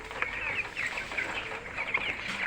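Broiler chickens cluck and chatter close by, a busy overlapping run of short calls from several birds with no voices over them.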